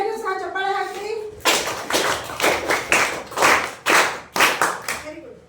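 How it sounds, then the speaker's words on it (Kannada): Eighth-standard students in a classroom clap for their classmates, a loud burst of rhythmic group clapping in quick pulses that follows a spoken line from the teacher. "ಎಲ್ಲರಿಗೂ ಸಹ ಚಪ್ಪಾಳೆ ಹಾಕಿ"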